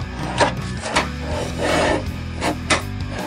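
A screwdriver tip is scraped across a steel sheet to mark a line, producing several short scratching strokes in an uneven rhythm against a steady low background hum.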